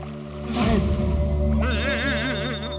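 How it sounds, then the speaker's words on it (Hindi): A phone's warbling ringtone trills repeatedly in the second half, while voices and a sharp noise burst fill the start. "टप्पू फोन क्यों नहीं उठा रहा?"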